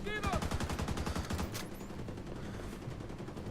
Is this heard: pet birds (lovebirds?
no